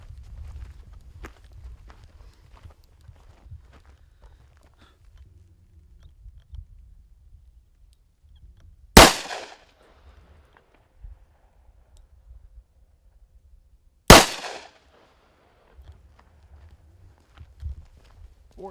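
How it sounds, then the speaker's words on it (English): Small caliber handgun fired at a shooting range, two sharp, loud isolated cracks several seconds apart amid quiet outdoor background with faint footsteps and wind. "Four shots."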